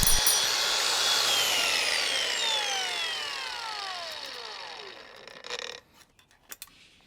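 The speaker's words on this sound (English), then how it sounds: "cut them with the angle grinder is pretty fast" An angle grinder cuts through an old CV boot with a high whining grind whose pitch sweeps downward as it spins down, then stops, leaving a few faint clicks and clatters.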